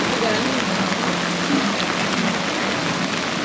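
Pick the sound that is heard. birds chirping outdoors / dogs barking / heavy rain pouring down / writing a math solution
heavy rain pouring down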